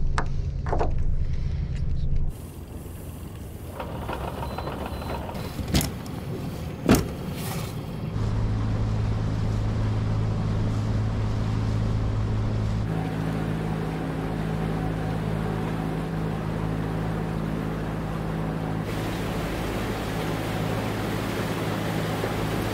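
A catamaran motors across calm water among the San Juan Islands, its engine giving a steady low drone with a few brief knocks and clatters early on, then a continuous even hum.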